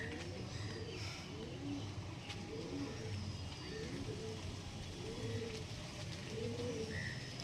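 An Andhra Kalshira pigeon pair coos in a loft, low rhythmic rolling calls repeating steadily at moderate distance under a constant background hum, with a faint passing vehicle.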